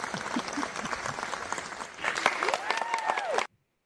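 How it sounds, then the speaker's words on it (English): Studio audience at a comedy podcast taping claps and cheers for a beer pour, the applause steady and fairly close for about three and a half seconds, with whoops and voices rising over it before it cuts off abruptly. "applause for that"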